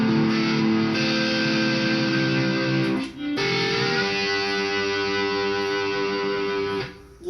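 Sustained electric guitar chords played through a TC Electronic Dark Matter distortion pedal, loud and thick with saturated harmonics, ringing out with a brief break and a change of chord midway, with no voices.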